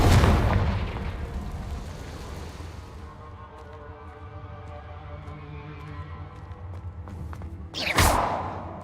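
A Confringo fire-blast spell in Hogwarts Legacy goes off as a loud booming explosion that fades into a rumbling tail with ringing tones, followed by a second sharp burst near the end.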